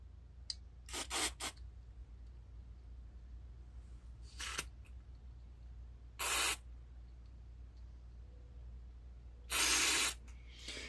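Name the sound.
spraying carburetor cleaner from aerosol can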